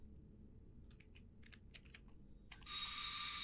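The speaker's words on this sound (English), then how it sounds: "Oh, I'm ringing the doorbell." Keyboard-like clicking at first, then a bright electronic doorbell ring bursts in from a video game and sustains loudly to the end, with no talk.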